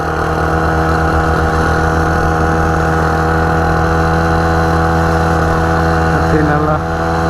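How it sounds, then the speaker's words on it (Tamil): The engine of a mini superbike motorcycle climbs the Thoppur ghat pass on a hill road, holding a loud, steady, close drone with a constant pitch that shifts only slightly near the end. "இந்த வண்டி ஏறுவான்னு நினைச்சாங்க, அசால்ட்டே ஏறி போயிட்டு இருக்குங்க"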